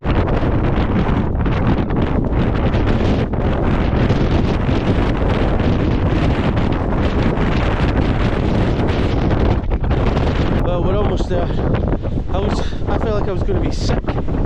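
Strong wind batters the microphone on a mountain climb up Ben Lawers via Beinn Ghlas, a loud continuous roar with constant buffeting, and voices are faintly heard near the end.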